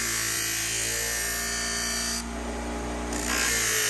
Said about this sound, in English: now we're going to take it to the buffing wheel, and we've got to pull this